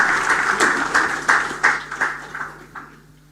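An audience at a political interaction event claps to welcome a speaker, distinct hand claps at first that gradually fade and thin out into quiet by the end.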